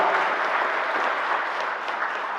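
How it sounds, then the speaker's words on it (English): Audience applause, a steady wash of clapping from a group that holds evenly for a couple of seconds with no voices over it. "shamelessly fishing for applause from this group over here."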